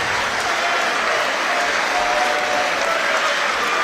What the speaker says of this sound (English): Can we please have a massive round of applause for both of our boxers?